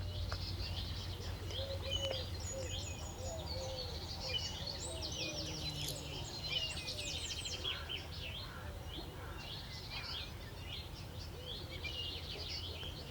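Birds chirp and twitter by rain-filled stone basins carved into rock at a megalithic site in Ardèche, several bright calls overlapping above a soft steady outdoor hum throughout.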